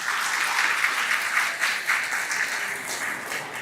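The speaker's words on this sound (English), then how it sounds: "please give a big round of applause to Dr." A big round of applause from an audience at a formal ASEAN poetry event, steady dense clapping filling the room without a break.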